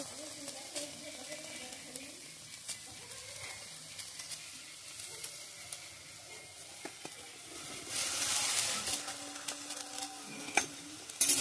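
Vegetables with potato, greens, turmeric and salt stirred in a frying pan, a faint sizzle under scattered spoon taps and scrapes, with a brief louder hiss burst near the end and occasional background voices.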